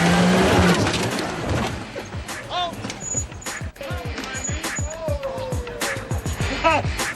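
Off-road vehicle climbing a rock ledge on the Rusty Nail trail near Moab, with engine revving in bursts, tires spinning and scrabbling, and a hard bump over the lip, close and loud.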